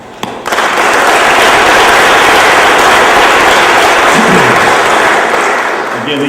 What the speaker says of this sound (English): Let's give one more round of applause to the United Way success participants.